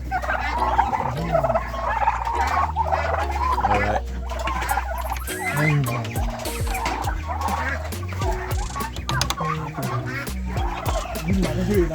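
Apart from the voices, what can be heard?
foreign turkeys gobbling on a bird farm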